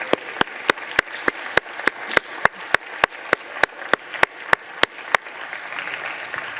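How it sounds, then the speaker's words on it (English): Slow, evenly spaced claps ring out in the Senate chamber, a steady single-file rhythm of sharp hand claps that continues for several seconds before thinning out. "We should all applaud him."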